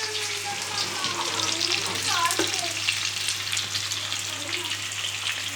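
Onion and green chillies fry in oil on a stove at high heat, a loud steady sizzle with stirring scrapes and occasional clinks, close and continuous.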